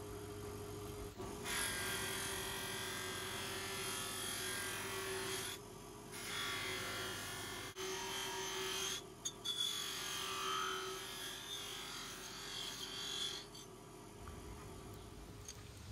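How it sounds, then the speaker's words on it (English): An old 1960s belt-driven buffing machine polishes motorcycle engine covers, a steady close whirring hum with a high rubbing hiss that rises and dips as each piece is pressed against the wheel. "I really like my buffing machine."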